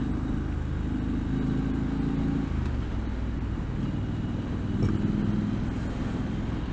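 Triumph Street Scrambler motorcycle riding along Patterson Pass, a steady engine drone under strong wind rumble with slight pitch shifts as the rider holds speed.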